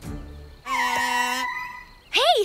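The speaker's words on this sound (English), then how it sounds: "It calls big animals. Here, Tib, a super dinosaur whistle." A cartoon super dinosaur whistle blown in a few tonal, honk-like blasts: a short low toot, a longer sustained buzzy note, then a quick wavering, bird-like warble, close and fairly loud with no talking.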